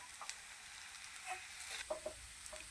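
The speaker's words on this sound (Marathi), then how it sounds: "बघा, शाबू छान परतलेला आहे" Sabudana (sago pearls) roasting in a pan for fasting khichdi, giving a faint, steady sizzle with soft scraping stirs and a few light clicks, no voices.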